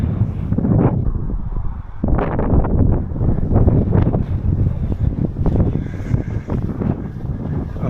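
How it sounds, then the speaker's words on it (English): Wind gusting on an exposed hill walk in the Garleton Hills, a steady broadband rush buffeting the microphone, swelling and easing in gusts throughout with no one speaking. "the wind is picking up a little bit"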